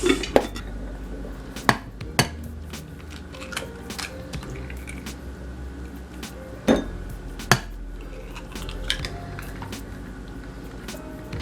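Eggs going into a bowl of hair mask ingredients with rosemary oil bring sharp clinks and taps of bowl and utensil, with soft wet handling sounds between them.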